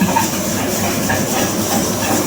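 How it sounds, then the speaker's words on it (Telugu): A kitchen pressure cooker cooking rice lets off its whistle as a loud, continuous rushing hiss of escaping steam, steady and close throughout with no voices. "కుక్కర్ అయితే విజిల్ వచ్చేసింది"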